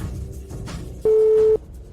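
A telephone call tone sounds once as a single clean beep of about half a second, loud and close over a faint background hum.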